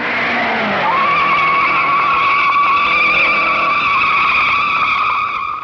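A 1956 race car on the Indianapolis 500 track sweeps through a corner, with a loud, sustained high engine whine and a tonal squeal that rises and holds as it passes close by, with no voices.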